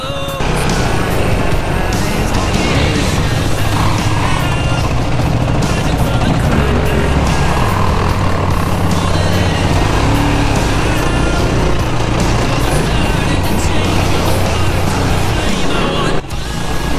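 Yamaha Raptor 700 and Yamaha YFZ sport ATV engines on a steep wooded Pennsylvania trail, loud continuous revving and droning close up, pitch shifting with throttle, while riders talk over it.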